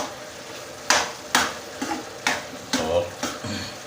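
Cooking oil in a frying pan sizzles as an Arabic mugalgal dish cooks, with a steady fry under about half a dozen louder stirring scrapes against the pan.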